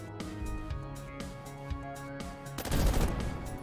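Explosions from the robot combat video game Bionic Dues go off as a rapid string of sharp blasts, swelling into a heavier rumble near the end, layered over steady electronic game music.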